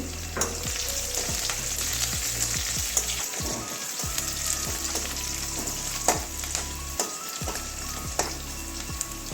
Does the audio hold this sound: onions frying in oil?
yes